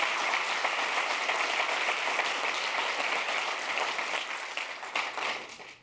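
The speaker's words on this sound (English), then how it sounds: "While I appreciate your applause" Sustained audience applause fills a large keynote hall, a dense, even wash of clapping from many people that holds steady and fades slightly at the end.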